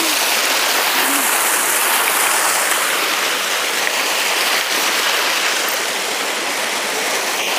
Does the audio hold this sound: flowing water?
yes